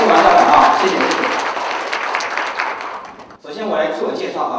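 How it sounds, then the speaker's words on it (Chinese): An audience applauds loudly for a school principal, a broad burst of clapping with voices mixed in that fades, dips briefly, then swells again near the end. "我们是不是给王校长一个最热烈的掌声"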